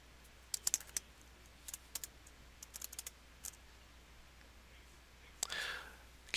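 Someone types on a computer keyboard at a desk, quiet scattered key clicks in short bursts with pauses, then a brief rustle near the end, heard faintly close by.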